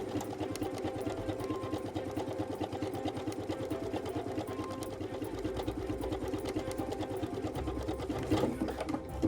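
A PFAFF Creative Ambition 640 sewing machine stitches fabric with a close, rapid, continuous mechanical chatter that runs steadily for about nine seconds with no talking.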